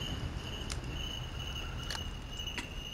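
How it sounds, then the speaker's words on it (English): Crickets chirp in a steady high trill across a night scene in the video game Baldi's Field Trip, faint and continuous, with a few soft taps in between. "Oh no, the crickets."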